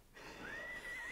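A horse neighs once in a radio play, a rising then sustained whinny against a faint background hum, fairly quiet and with no talk.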